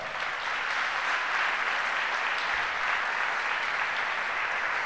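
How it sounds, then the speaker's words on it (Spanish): A church congregation applauding the Lord during a sermon, steady dense clapping filling the whole span at an even, sustained level with no talk over it. "Denle un aplauso al Señor para saber que usted está acá."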